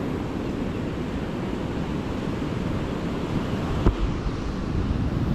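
Calm sea at low tide washes steadily onto the shore as the monsoon season begins, a continuous broadband surf with wind buffeting the microphone and one brief knock near the end.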